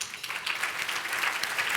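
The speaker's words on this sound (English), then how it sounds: "That deserves applause." Guests at a Women United brunch event break into applause, a short burst of clapping from the seated audience that swells quickly and stays fairly even.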